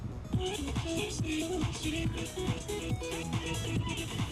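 Dense electronic dance track with punchy drums and chopped, pitched vocal snippets bouncing in a repeating rhythm, loud and full throughout.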